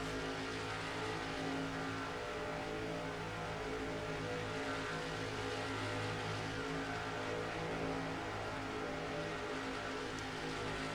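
Race car engines in the video game NASCAR Racing 2003 produce a steady, continuous drone of several cars running together, a dense, unbroken engine roar held at an even, moderate level with no talk.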